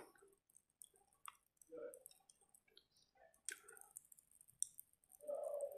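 Popping candy in the filling of Coca-Cola Oreo cookies crackles with faint, scattered tiny clicks and pops, mixed with soft chewing and squishy mouth sounds, close and quiet.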